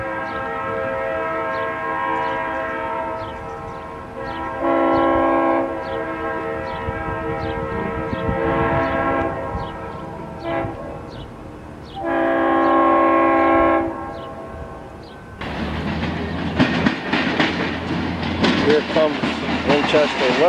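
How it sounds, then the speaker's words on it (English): Two trains approach at the same time, a Winchester & Western freight moving up a street and a Norfolk Southern train on a nearby track. A steady engine drone is broken by repeated horn blasts, then a loud rumble and rattling of cars takes over near the end. "got two trains coming at once here. Winchester&Western is coming up the boulevard, and Norfolk Southern is coming up this track."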